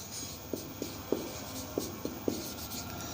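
Writing on a board while noting down a physics problem in a class: short, sharp taps and strokes come in an irregular series at moderate volume, with no talking.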